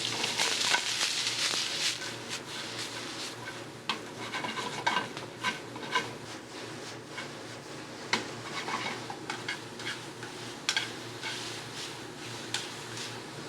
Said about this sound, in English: going to saute our vegetables in a little bit of bacon fat